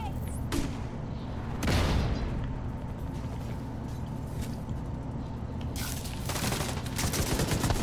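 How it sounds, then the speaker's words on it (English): A grenade launcher fires in The Division 2 on a gunner build, its thumping blasts set among ongoing gunfire and mechanical clatter while a player's voice talks over the fight. "Launching grenade."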